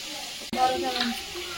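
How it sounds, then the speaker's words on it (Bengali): Bhola fish fries in a pan with a soft, continuous sizzle and hiss, while people talk nearby. "ঠিকঠাক মাছ ভাজা হচ্ছে।"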